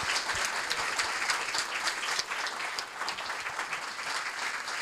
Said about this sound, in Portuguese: eu peço que os saúdem com uma fulgurante salva de palmas